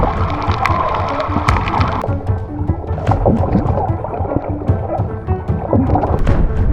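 A motorboat ride on the sea off a coral shore at Balicasag Island, Philippines: a steady, loud engine drone and hull noise with splashing water throughout, no clear voices.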